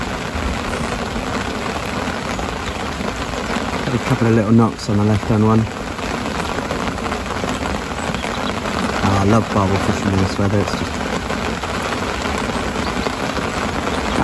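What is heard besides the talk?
rain falling on an umbrella while fishing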